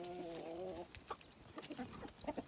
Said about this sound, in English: And here's some of my birds